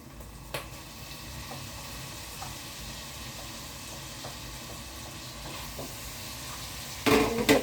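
Sliced onions frying in a pan with ginger and garlic for a Kerala-style fish molee: a steady, low sizzling hiss runs throughout, broken by occasional soft stirring taps, then a louder clatter at the end.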